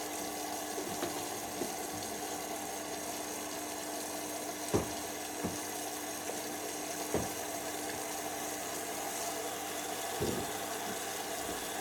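Steady hot water rushes into a basic Hotpoint 9511 800-spin washing machine as it fills on program 2, a constant hiss with a low hum and a few faint clicks and knocks throughout.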